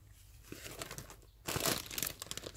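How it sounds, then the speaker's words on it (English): A parcel from the post being unwrapped, with crinkling and tearing wrapping that grows louder and busier partway through, in close, rustling bursts. "So let's unwrap this one."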